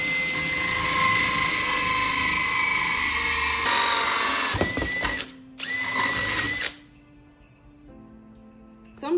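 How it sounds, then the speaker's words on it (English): A power drill whines loudly and steadily while drilling into wood, cuts out briefly, revs again, then spins down to a quieter hum. "I want to have my drill bit raised up a little bit from the wood when I start"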